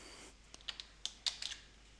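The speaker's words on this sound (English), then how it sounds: "To save, hold Ctrl and press S." Ctrl+S pressed on a computer keyboard, a handful of quiet, sharp key clicks in a short irregular burst, close and alone in a hushed room.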